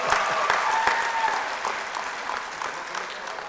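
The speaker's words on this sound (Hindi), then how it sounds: "एक बार और तालियां हो जाए" An audience at a Sufi ghazal evening in Rewa gives steady, full applause, many hands clapping together and evenly throughout, fading slightly toward the end.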